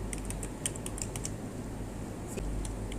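Fingers type on a computer keyboard while entering data into Microsoft Excel, with a quick run of sharp key clicks, a short pause, then a few more taps over a low steady hum.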